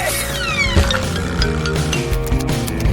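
A cat meows briefly amid busy background noise, with clattering and tonal sounds throughout.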